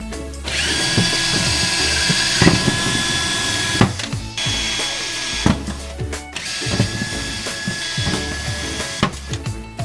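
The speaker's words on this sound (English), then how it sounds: "take my drill with a 5/64 bit and drill these rivets out." A power drill fitted with a 5/64 bit bores out rivets on a Honda Pioneer 500 switch plate, running in two loud sustained whining bursts with short pauses, clicks and rattles between them.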